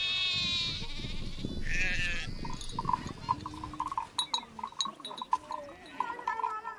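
Red Maasai sheep bleat repeatedly, several voices overlapping at first, then sparser calls over a quieter background with occasional clinks.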